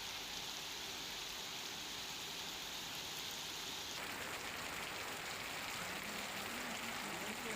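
Heavy rain falls steadily in Kavant, Chhota Udepur, a dense even hiss of downpour with overflowing river water, with no voices and the texture shifting slightly partway through.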